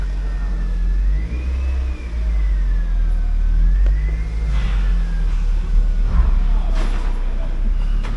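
A 2000 Toyota MR2 engine runs steadily as the car is driven slowly back and forth at a salvage yard, with a low constant drone and a few mild revs, close and continuous throughout.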